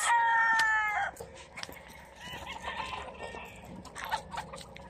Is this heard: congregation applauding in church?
no